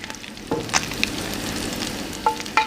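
Frog legs sizzle steadily in heated butter in a small casserole pot, a close, even crackle broken by a few sharp utensil clinks and taps near the start and end.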